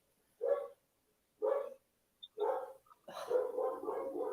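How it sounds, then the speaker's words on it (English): A dog barks four times in a steady, evenly spaced series, fairly close and clear, the last bark drawn out, with quiet gaps between barks and no talk over them. "Whose dog is that?"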